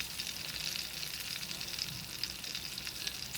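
Chicken leg pieces fry in oil and ghee with biryani masala, making a continuous, fairly soft sizzle and crackle that is steady throughout, with no voices.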